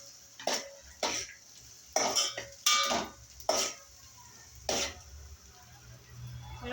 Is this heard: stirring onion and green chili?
yes